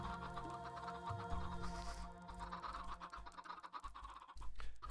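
Blocky farm chickens in Minecraft cluck in a dense, overlapping chorus over steady game background noise, clucks pattering near and continuous throughout.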